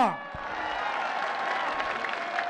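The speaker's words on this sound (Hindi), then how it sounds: "ईसा खेल भी गिरिए भरपूर तालियां।" A large crowd applauds at a political rally, a dense, steady wash of clapping and cheering that fills the space, with a voice over the loudspeakers at the start.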